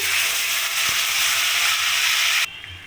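Ginger, green chili and tomato paste sizzle steadily and loudly in a hot wok, a continuous hiss that cuts off abruptly near the end, leaving a quiet pan.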